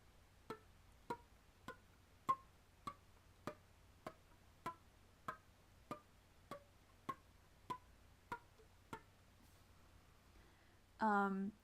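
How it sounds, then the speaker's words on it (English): About fourteen sharp, percussive flute slap-tongue pops at a steady, moderately quick pace, each with a short pitched ring, followed by a brief sustained tone at the end. "So the next one is slap tongue,"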